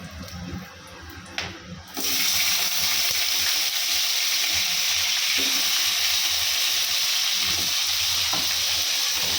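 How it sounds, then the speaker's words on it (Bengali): Potatoes drop into hot oil tempered with cumin, chilli, cardamom and cinnamon, setting off a sudden loud sizzle after two seconds that holds steady to the end. "আমি সাদা জিরে ফোড়ন দিলাম লঙ্কা দুটো এলাচ দারচিনি দিলাম দিয়ে আমি আলুটা দিয়ে দেবো"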